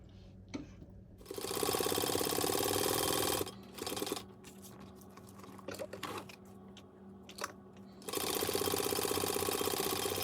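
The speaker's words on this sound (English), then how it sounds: "Now, let's sew it at 1/4 inch." A sewing machine stitches a vinyl pencil pouch in two loud, rapid bursts, the second beginning after a pause. Softer clicks and handling noises sit in the gap, and no one speaks.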